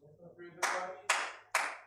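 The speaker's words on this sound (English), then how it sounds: "Clap your hands." Three sharp, loud hand claps in a church congregation during a lesson on family recreation, evenly spaced about half a second apart, following some faint background voices.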